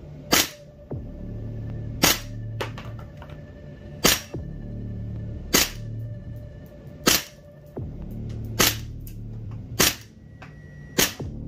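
A Tokyo Marui MTR-16 gas blowback airsoft rifle fires eight loud, sharp single shots spaced about one and a half seconds apart, each with a crisp mechanical snap, and a faint hum runs between them.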